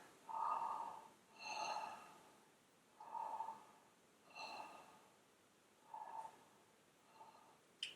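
Slow, audible breaths during a beginner yoga session, about six soft inhales and exhales evenly spaced over several seconds, close and quiet with no talking.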